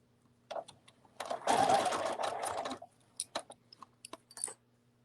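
A sewing machine stitches fabric for a cuddle bunny in quiet, close bursts: a short run, a longer steady whir, then several brief stuttering stitches.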